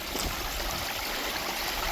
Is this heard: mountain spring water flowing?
yes